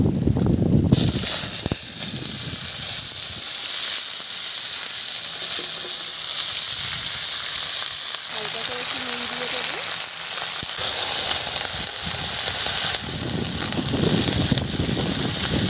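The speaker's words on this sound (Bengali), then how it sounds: "কড়া গরম হয়ে গেছে তেল দিয়ে দিচ্ছি এখানে দিয়ে দিচ্ছি শুকনো লঙ্কা আর জিরে দিয়ে দিচ্ছি" Dried chillies and cumin seeds hit very hot oil, setting off a loud, continuous hissing sizzle that carries on for many seconds, with brief clatters of utensils near the start and end.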